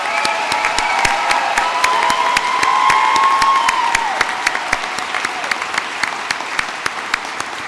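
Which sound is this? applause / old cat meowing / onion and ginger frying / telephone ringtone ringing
applause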